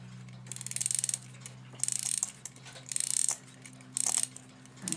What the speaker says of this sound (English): let's do the time winder a little bit and see what happens